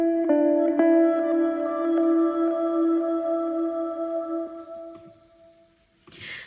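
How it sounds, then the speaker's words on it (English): A clean guitar melody with an octave tremolo preset in Logic Pro X rings out in sustained, gently pulsing notes that slowly fade, with a soft rustle near the end. "I added a new guitar melody to fill up this space"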